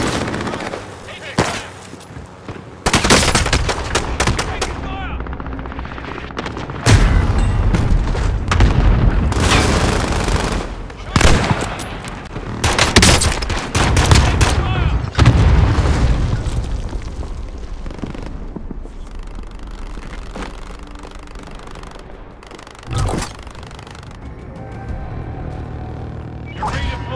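Heavy gunfire and booming blasts in the shooter game Call of Duty: Warzone come in loud bursts across a busy battle mix, with a voice speaking in places.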